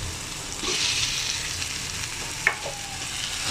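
Mashed boiled potato mixture frying in a pan for a potato roll, a steady soft sizzle running throughout with a brief scrape or stir near the end, no talking.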